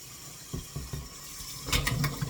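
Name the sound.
hot water being drained off boiled eggs into a sink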